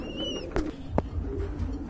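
Pigeons for sale coo softly close by, two low throaty calls within a couple of seconds, with a thin high whistle and background murmur around them.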